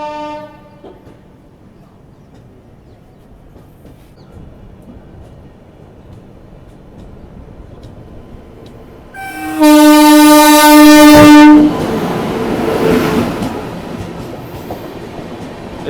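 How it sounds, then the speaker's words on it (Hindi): A New Delhi–Lucknow Swarna Shatabdi Express pulls into Tundla Junction on a foggy day. Quiet rumble at first, then a loud sustained multi-tone horn blast for about two seconds, followed by heavy rolling wagon noise. "सामने आ रही है नई दिल्ली लखनऊ स्वर्ण शताब्दी एक्सप्रेस"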